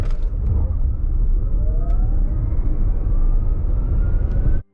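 A Genesis eGV70 AWD electric SUV accelerates hard, giving a loud, steady roar of road and wind noise with a faint motor whine rising in pitch, before it cuts off abruptly.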